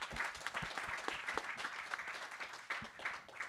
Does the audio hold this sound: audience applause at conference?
yes